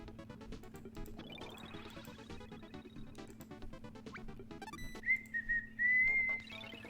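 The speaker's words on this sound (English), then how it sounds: "Whistling does not go well on the mic." A person whistles a short sustained tune near a microphone, faint at first, then a clearer held note toward the end over quiet electronic game sounds.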